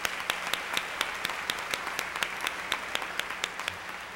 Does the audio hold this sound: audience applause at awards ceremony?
yes